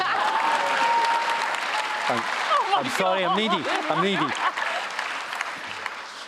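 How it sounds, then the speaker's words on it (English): Applause from a crowd at a book launch event, steady clapping heard throughout while a voice speaks briefly and a few whoops rise above it in the middle, then it gradually thins out. "I thought that was worth a round of applause"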